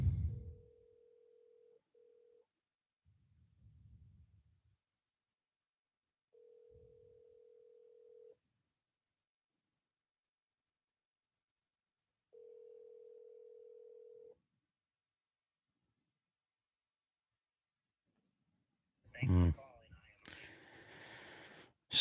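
A telephone ringback tone sounds on a call, short steady beeps spaced by long silences, quiet and thin, with a few faint rustles and a brief voice near the end.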